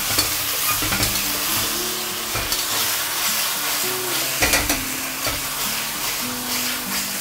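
Fish slices fry in a hot wok over high heat while a spatula stirs and scrapes them, a steady loud sizzle broken by sharp metallic scrapes, no voices.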